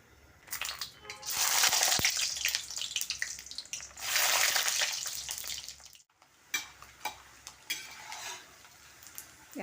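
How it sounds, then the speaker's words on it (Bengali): Peanuts fry in hot oil and are stirred in a pan, giving loud bursts of crackling sizzle with scraping and clinking of a utensil, then quieter, scattered clicks as the frying settles; no one speaks. "দেখো বাদাম ভাজা হয়ে গেছে"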